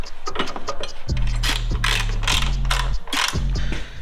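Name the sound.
ratchet tightening bolts on a Jeep hood lift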